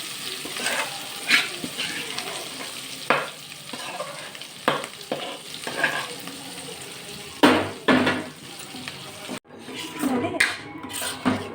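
Spices are tempered in hot oil for tomato chutney in a home kitchen. Sizzling and frying crackle along with intermittent stirring scrapes and clinks of a pan, plus short splashy bursts near the end.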